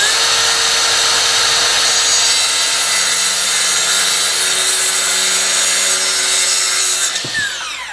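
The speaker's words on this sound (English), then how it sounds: "I'm cutting a 1x4 34 inches long using a skill saw." A circular saw whines steadily through a 1x4 wooden board, a loud continuous buzzing cut that ends abruptly as the blade spins down near the end.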